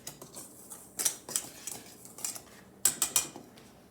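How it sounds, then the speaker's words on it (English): A whisk clinks against a bowl as dry baking ingredients including baking soda are mixed, sharp metallic taps in uneven clusters, close and fairly loud, no talking. "I'll whisk these together"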